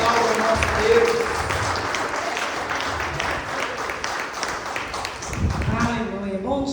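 A church congregation at a communion service applauds steadily, with dense, sustained clapping across the room while voices call out and talk over it, fading near the end.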